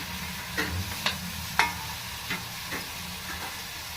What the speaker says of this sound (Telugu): బోటి వేసుకున్నాక కొంచెం ఇలా ఒక 5 నిమిషాలు కలుపుకున్నాము.